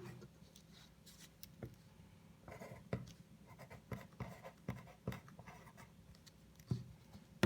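A pen scratches out a maths answer by hand on paper, quiet close strokes and taps in an irregular rhythm, alone without talk.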